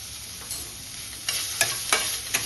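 Cooked rice is tipped into oil tempered with cumin, mustard seeds and onion and stirred, giving a soft background sizzle broken by a few brief scraping and tossing bursts near the end, close and without voices.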